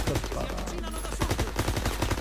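Gunfire in the Call of Duty: WWII video game, with rapid bursts of shots pulsing steadily through dense battle noise, loud and close throughout.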